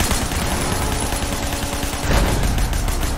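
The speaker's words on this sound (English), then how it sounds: "Shoot this fucker." Gunfire in Sleeping Dogs, a loud, dense stream of rapid shots rattling without pause, with a heavier blast near the end.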